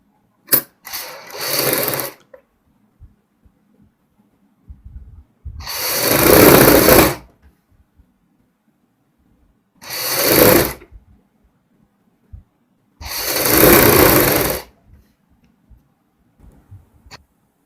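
A sewing machine stitches the back pieces of a kurti in four separate bursts of rapid mechanical whirring and clatter, each a couple of seconds long, with quiet pauses between.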